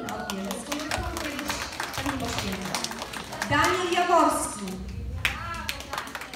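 Scattered clapping from the audience at a school nativity play prize ceremony, heard under a speaker announcing names over a hall's chatter.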